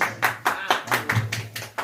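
Audience at a stage event claps to welcome a performer: eight evenly spaced, fairly loud hand claps in a steady rhythm, with a low hum underneath.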